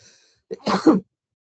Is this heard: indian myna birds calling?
no